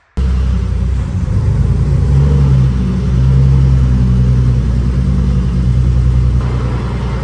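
Engine of a BMW E46 Spec race car idling in a garage while being moved, a loud, close, steady low rumble with a slight rise in revs partway through and no talking.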